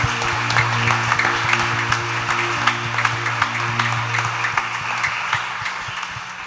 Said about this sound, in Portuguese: Aplauda Cristo mais uma vez.